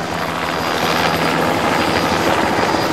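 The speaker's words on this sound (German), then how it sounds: "Da kommt ein Hubschrauber." Helicopter approaching to land, a loud continuous rotor thrum with rapid blade chop that holds steady throughout, with no voices.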